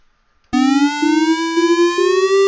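A Pure Data synthesizer oscillator sounds a steady harmonic tone that slowly glides upward in pitch through an envelope, retriggering about every half second, loud and alone with no talking.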